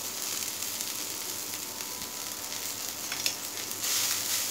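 Tender tamarind leaves fry in a hot pan on a low flame, giving a soft, even sizzle that hisses steadily and faintly throughout, with light stirring noises and no talk.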